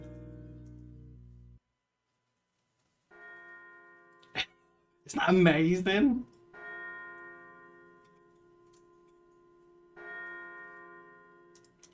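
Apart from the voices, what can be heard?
church bell sound in a music track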